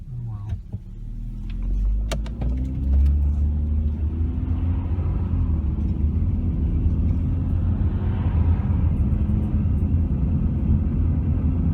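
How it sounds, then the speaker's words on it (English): Steady road traffic at night, a broad low rumble of cars passing on a usually quiet road, continuous and fairly loud across the whole stretch with no voices. "Sort of busy right now. Usually there's no cars on this road."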